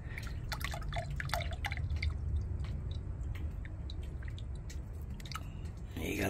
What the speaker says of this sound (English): let's go and run some water out of this thing and see how much difference it really makes